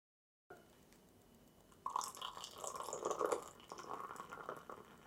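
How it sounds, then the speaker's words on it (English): Fermented pineapple tepache is poured from a freshly opened bottle into a glass, a faint liquid stream and trickle that grows a little louder partway through, with no talk. "let's crack these guys open and pour it into a glass."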